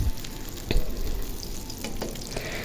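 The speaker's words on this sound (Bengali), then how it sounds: "তেলে ভাজতেছি।" Paneer Moghlai paratha frying in oil gives a steady close sizzle with soft crackles, a few sharper pops and a spatula scrape near the start, and no talking.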